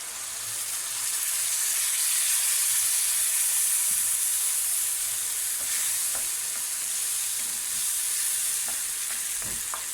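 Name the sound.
browned onion and tomatoes frying in a pan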